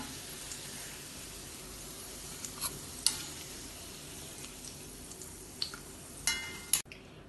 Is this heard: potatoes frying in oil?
yes